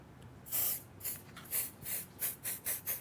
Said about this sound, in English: I'm just going to do a quick little spray here